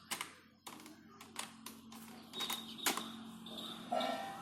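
Fingers typing text into a Microsoft Word document on a computer keyboard produce a quiet, uneven run of close key clicks and taps, with a few louder strokes mixed in and no talking.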